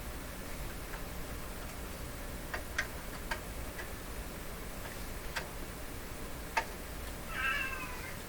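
A pet cat meows briefly near the end inside a snowbound home workshop, a short faint call over steady background hiss, preceded by a few scattered light ticks.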